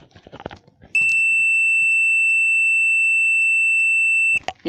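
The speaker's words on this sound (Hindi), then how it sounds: "ये देखिए बीप की आवाज़ आ रही है" A multimeter continuity tester emits a single loud, steady high-pitched beep lasting about three and a half seconds, bracketed by faint handling clicks and rustle before and after.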